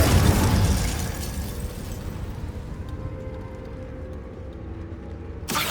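An Incendio fire spell blast in Hogwarts Legacy roars loud and dense from the start, then settles into a sustained rumbling, crackling wash before a short burst near the end; no talking.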